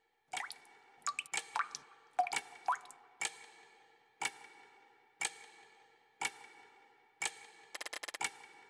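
Water drips in the video game Pocket Mirror, a string of distinct plinks spaced about a second apart, clear and isolated against silence, ending with a quick rattling flutter.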